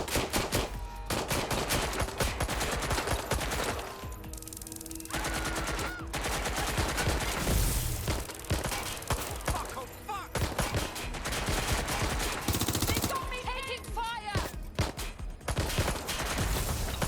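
Sustained gunfire and bursts of automatic fire in the video game Watch Dogs: Legion, loud and dense throughout, with shouting voices breaking through the shooting.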